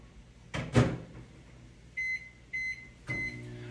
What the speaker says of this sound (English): I'll put it in the microwave for 10 seconds just to give it a little bit more warmth to it